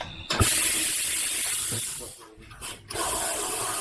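Tire changing machine running in a workshop, a steady loud mechanical hiss and whir with ratcheting clicks, dipping briefly near the middle before resuming.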